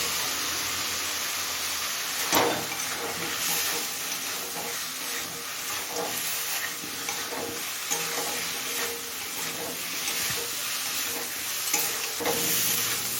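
Chunks of elephant foot yam fry in a pan with a rohu fish head curry base, a constant close sizzle broken by repeated spoon scrapes and knocks against the pan as it is stirred.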